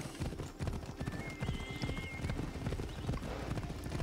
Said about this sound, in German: Wir nehmen hier einfach eins der Pferde mit.